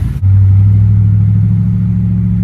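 A carbureted car engine with a Brawler carburetor roars close by, its low steady drone holding strong after a sudden jump in revs.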